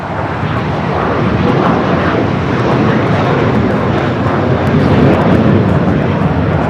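A Singapore Airlines Boeing 777-300ER in Star Alliance livery landing at LAX, its jet engines a loud, steady broadband roar that holds evenly throughout with no voices.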